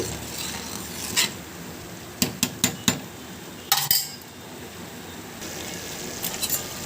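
A ladle scraping and stirring thick simmering cream in a pot while ghee is made, with a few sharp metallic clinks against the pot amid soft bubbling.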